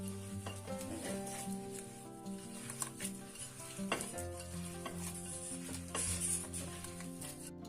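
Butter and sugar are worked together by hand into Nutella cookie dough, giving soft, quiet, squishy mixing noises with occasional light knocks against the bowl over a faint steady background hum.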